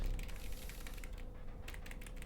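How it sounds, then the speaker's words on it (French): Rapid, continuous clatter of keys on a computer keyboard, fairly quiet and close, with a soft low hum underneath and no talking. "Vous m'entendez taper sur le clavier là?"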